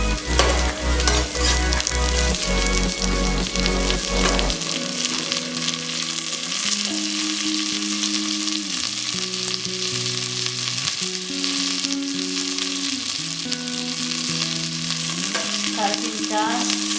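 Curry leaves fry and are stirred in a hot pan for a coconut bite tempering, a loud continuous sizzle close up with scraping stir sounds throughout and music playing alongside.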